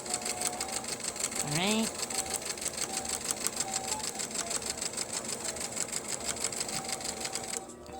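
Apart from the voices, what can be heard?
sewing machine stitching clothes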